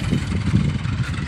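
A tractor engine near a peanut field idles with a low, throbbing rumble, pulsing unevenly and heard close with no talk.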